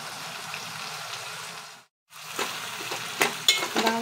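Ridge gourd curry with chili powder cooks in a pan, a soft sizzle under light stirring, broken by a brief silent gap, then louder scraping and clinking strokes of the spoon, close and without speech.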